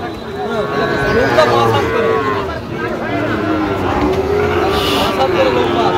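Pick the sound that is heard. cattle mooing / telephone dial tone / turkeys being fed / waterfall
cattle mooing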